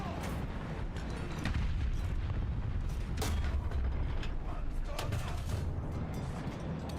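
War Thunder tank gameplay with cannon fire and rumbling, mechanical creaks and a couple of sharp blasts over a dense, steady engine drone.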